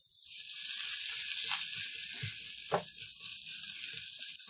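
Finely chopped green chillies, cumin seeds and spices roasting in hot oil in a pan for aloo samosa stuffing, a steady close sizzle with a soft stir midway.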